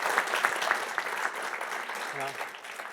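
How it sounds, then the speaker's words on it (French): An audience welcomes a guest at an evening event with a burst of crowd applause, medium-distance clapping that is lively at first and then gradually tapers off. "Je vous demande de l'applaudir s'il vous plaît."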